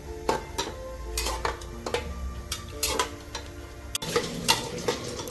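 Carrot halwa being stirred in a pan over full gas heat, with repeated scraping strokes of a spoon against the metal and a soft background sizzle, steady and close.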